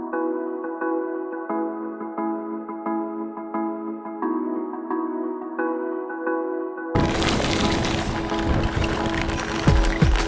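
Heavy rain starts during a bike ride. After a stretch of music, a dense, loud, steady hiss of downpour and wind fills the scene up close.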